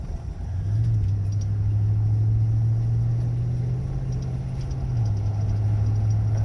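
A 2014 Ram 1500 pickup truck engine runs at a steady, close, low rumble with a slight rise and fall in pitch and no talking.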